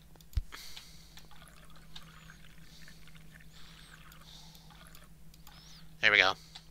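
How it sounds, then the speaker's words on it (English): Water poured from a container into a bowl of flour for pizza dough in a kitchen, a short close burst of liquid near the end after quiet background hum and a sharp tap. "Here, water."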